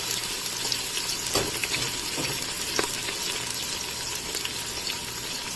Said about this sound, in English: So I'll fry this lightly for a while